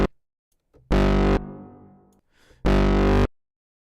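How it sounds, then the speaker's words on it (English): A synth bass preset with reverb plays two loud sustained notes, each cut off sharply, and a reverb tail fades between them. "So now we are on to basses, and this sounds like it has some reverb already there."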